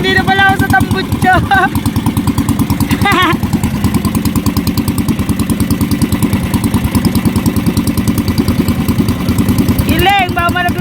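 A motorcycle engine idles right beside the exhaust, a loud, steady, rapid chugging pulse throughout, with a person's voice rising briefly over it several times.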